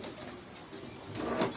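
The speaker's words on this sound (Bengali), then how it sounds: "এই যে দেখুন মাদির খোপে পায়রাগুলো।" Pigeons coo in a loft, their soft repeated calls faint and low under a steady background hiss with a few light knocks.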